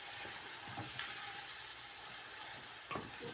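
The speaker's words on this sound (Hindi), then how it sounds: "और इसमें अब मैं चिकन डालती हूँ।" Chicken pieces frying in a pan with onion, garlic and ginger, giving a steady close sizzle with occasional stirring scrapes and pops throughout.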